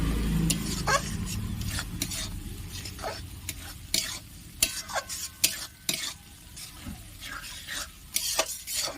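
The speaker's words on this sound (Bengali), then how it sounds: "এরপর আমি এতে দিয়ে দেব এই নারকেল কুচিটা বেশ ভালো করে কষিয়ে নেবো" Grated coconut is stir-fried in spice paste, a sizzle broken up by busy, repeated scraping and stirring strokes in the pan, close and fairly loud, with no talking.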